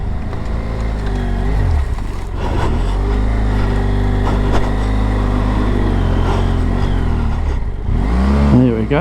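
A car engine revs on a dirt track in the Bunyip and Loch Valley area, a loud, close, sustained drone that rises and falls in pitch as the throttle changes, with a sharper surge near the end.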